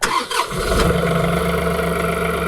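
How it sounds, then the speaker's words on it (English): A John Deere tractor engine cranks briefly, catches, and settles into a steady, rumbling idle close by. "now we can go ahead and turn the tractor back on"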